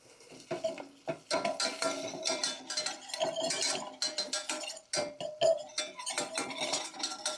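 Butter and seasonings go into a saucepan with a run of clinks, scrapes and taps of a utensil against metal, close and irregular, with no one speaking.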